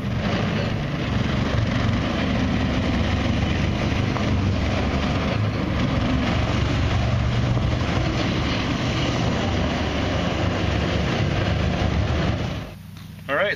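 The engine of a Jiger ATV drones steadily and loudly up close, running for about twelve seconds before it cuts out abruptly near the end, with some talk partly mixed in under the noise.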